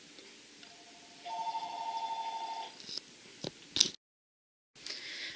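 A telephone rings indoors with a short electronic tone burst lasting over a second, followed by a few clicks and handling noises, then a brief silence.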